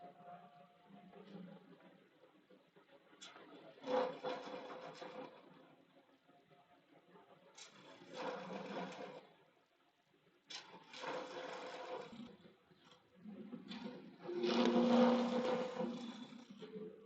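A round nose scraper cuts resin on a wood lathe in a workshop, giving quiet scraping bursts that come and go over a soft motor hum, with pauses between passes.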